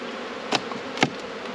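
Honeybees swarm around an open farm beehive during a hive inspection, making a steady, dense, close buzz that fills the scene, broken by two brief sharp taps, with no talking.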